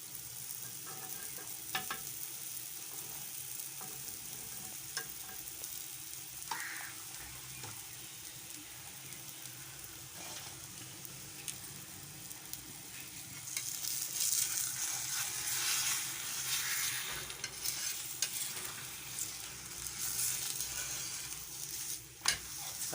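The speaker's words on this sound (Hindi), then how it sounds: "साथ ही जो रोटी हमने बनाई है पराठा इसके ऊपर शामिल कर देंगे, डाल देंगे तवे के ऊपर।" Mooli paratha cooks with oil on a hot tawa griddle, giving a faint, steady sizzle with occasional soft scraping and clinks, growing slightly louder and hissier toward the end.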